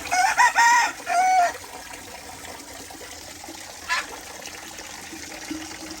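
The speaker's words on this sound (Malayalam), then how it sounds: "പല ടൈപ്പ് കോഴികളാണ് കയറിയിരിക്കുന്നത്, പല കളറുകൾ." Chickens of several breeds and colours at a poultry show cluck and squawk in a few short bursts near the start, then quieter background with a faint trickle of water from a broken sprinkler line and an occasional cluck.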